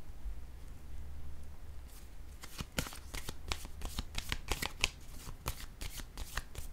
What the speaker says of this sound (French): Je vais déposer une carte sur cette zone de tourment.